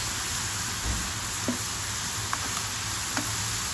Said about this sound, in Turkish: güzel bir kızartma yapıyoruz bugün arkadaşlar.